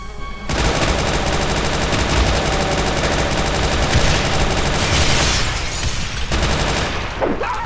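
Rapid, continuous automatic gunfire from a weapon in Brutal Doom, loud and close, a dense sustained burst that runs almost the full length before cutting off near the end.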